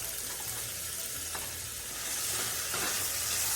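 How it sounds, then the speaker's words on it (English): Diced onions and celery sauté in a pot for turkey chowder, a steady close sizzle with a brief stir partway through, no talking. "Let's saute this for a couple of minutes until our celery and onions start to get a little bit tender"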